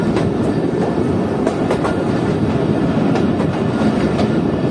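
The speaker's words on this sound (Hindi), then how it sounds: "तो इस वक्त ट्रेन अप्रोच कर रही है गुलिस्तान रेलवे स्टेशन पर।" A Chaman passenger train rolls toward Gulistan railway station, a loud, continuous rumble with rhythmic wheel clatter close by, no voices over it.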